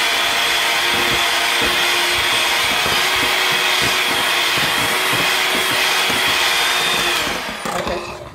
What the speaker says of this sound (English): Now I'm going to mix this for about another 10 seconds.